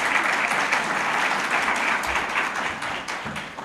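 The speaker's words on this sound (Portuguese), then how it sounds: "peço uma salva de palmas para a professora Paula Forgione" An audience applauds for a professor at a legal panel session on competition law, a dense, steady wash of clapping that holds strong throughout and tapers only slightly near the end.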